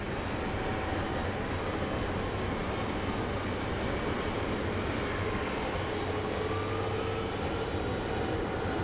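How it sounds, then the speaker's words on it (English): American Airlines Boeing 777 at Phoenix Sky Harbor on runway 26, readying for departure: a steady, broad jet-engine roar holds for the whole stretch at moderate distance, with no voices. "we are getting the American Airlines 777 getting ready for departure"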